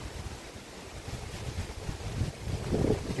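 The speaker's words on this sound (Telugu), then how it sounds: "చూస్తున్నారు కదా ఎంత గాలి వేస్తుందో" Strong wind gusting through a Yelakki banana plantation, a steady broad rushing roar that swells louder toward the end, with no voices.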